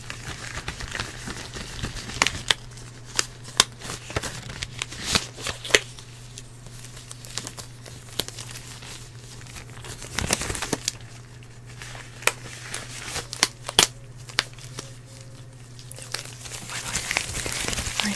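Gloves are pulled on with soft crinkling and rustling, scattered light snaps and crackles over a steady low hum, close and quiet in an ASMR sketching session.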